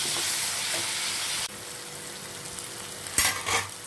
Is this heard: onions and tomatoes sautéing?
yes